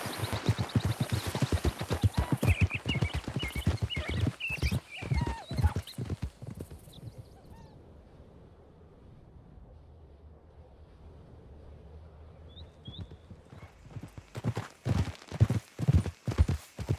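Horse hooves clip-clop at a steady trot in Red Dead Redemption 2, close and loud, then fade into quiet wind and ambience before the hoofbeats resume near the end.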